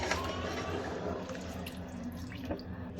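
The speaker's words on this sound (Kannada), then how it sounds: "ಆ 6 ಲೋಟಕ್ಕೆ ನಾನು 8 ಲೋಟ ನೀರನ್ನ ತೊಗೊಳ್ತಾ ಇದ್ದೀನಿ." Water running steadily into a pot of rice for biryani, a continuous close splashing stream with no one talking.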